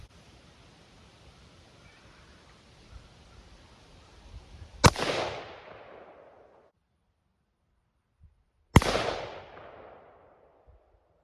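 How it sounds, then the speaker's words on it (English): Two loud, sharp shots from an AR-15 rifle fitted with a binary trigger, fired at a target outdoors, spaced about four seconds apart, each trailing off in a rolling echo, with a quiet hiss before the first and no talking. "So I'm gonna take this next shot a little closer."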